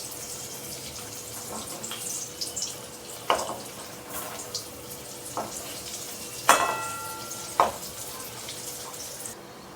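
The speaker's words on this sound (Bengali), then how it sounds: "আপনারা কিন্তু একটা মিডিয়াম ফ্লেম রেখে আপনারা চপগুলোকে ভাজতে থাকবেন।" Vegetable chops fry in oil over a medium flame, a soft continuous sizzle with scattered sharp clinks and taps as they are turned, close and moderately quiet, no speech.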